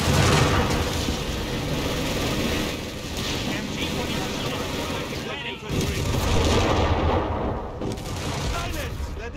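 In Company of Heroes 3, a German MG42 machine gun in a bunker rattles in dense bursts amid other gunfire and heavy booms of a multiplayer battle, loud and close, with game voices speaking over the din.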